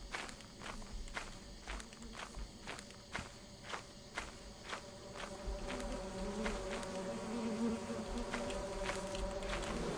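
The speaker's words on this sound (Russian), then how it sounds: "Тупые пчелы." A swarm of electric bees from a beehive in Lethal Company drones beneath a run of quick, rhythmic footsteps. The buzzing grows steadily louder and denser toward the end of the stretch.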